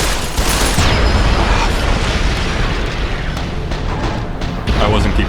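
A loud, continuous firefight from Fallout: New Vegas, with gunshots and booming blasts packed tightly together at close range, the chaotic racket running almost the whole time without a break.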